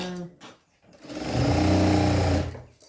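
Sewing machine stitching a blouse lining: a quiet lead-in of handling sounds, then a steady mechanical whir of fast stitching for about a second and a half, fairly close, before it winds down.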